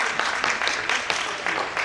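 Clapping from attendees at an annual general meeting after motions are voted through, a dense, steady patter of many hands filling the room with no talk over it.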